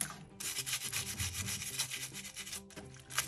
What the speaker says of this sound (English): So I'll scrub them up really good